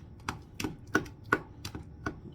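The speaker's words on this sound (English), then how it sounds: "Chopping this up. Big pieces of avocado." A knife chops an avocado into big pieces on a board, about seven crisp, evenly spaced cuts that sound close and fairly soft.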